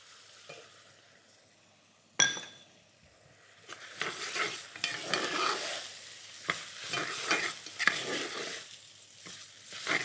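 Carolino rice tipped into a pan of sautéing onion and mushrooms, starting with a sharp clatter before a rising sizzle and repeated stirring scrapes that build in loudness and stay busy to the end.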